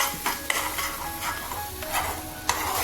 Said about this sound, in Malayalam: അപ്പോൾ ചമ്മന്തി നല്ലതുപോലെ ഒന്ന് ചൂടാക്കിയാൽ മതി ചൂടായിട്ടുണ്ട്